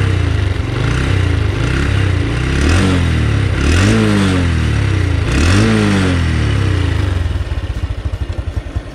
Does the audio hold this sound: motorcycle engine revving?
yes